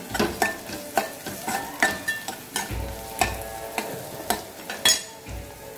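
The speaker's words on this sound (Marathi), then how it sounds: "खोबरं आणि जिऱ्याचं हे वाटण पण चांगलं परतून घ्यायचं" A coconut and cumin paste sautéed in a pan, with steady sizzling under rhythmic, clattering stirs of a spoon against the pan, repeated about twice a second.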